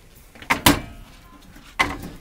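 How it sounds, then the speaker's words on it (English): A ball-bearing drawer in the kitchen of a 1995 Dolphin motorhome slides, giving two close sharp knocks and then a third clack a second later. "These are ball, little ball bearing drawers too."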